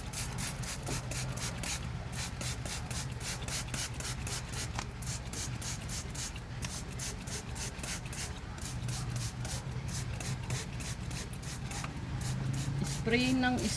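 A hand spray bottle mists water over freshly planted bean seeds in a home garden, a long steady run of rapid, even trigger pumps close up, with a voice briefly at the end.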